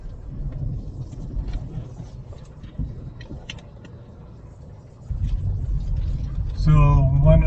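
Steady low engine rumble of a car on the road, rising in level near the end where a brief tonal whine and a voice-like harmonic sound cut in over the drive.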